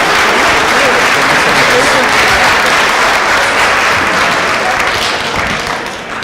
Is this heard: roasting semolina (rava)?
no